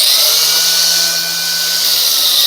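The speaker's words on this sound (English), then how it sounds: "It's always a good idea to just let it rotate a few times in the grinder, turn it on and just check the disc runs true." An angle grinder fitted with a brick-cutting disc runs freely in a test spin, giving a loud, steady, close whine that holds throughout with no talking.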